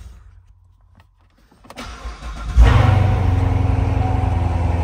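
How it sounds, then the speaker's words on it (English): A 2019 Chevrolet Corvette 2LT coupe with automatic gearbox cold-starts with its exhaust in track mode: a quiet interior, a starter whir, then a loud deep bark settling into a steady rumbling idle, close by. "There it is, a nice growl to it on the cold start."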